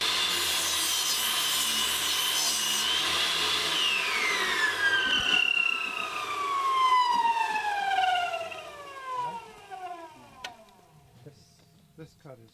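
A saw cuts through plywood along a fresh factory edge while a bench is being built, a loud, steady rasping cut whose whining pitch falls gradually as the blade works through, ending with a few scattered knocks as the piece comes free.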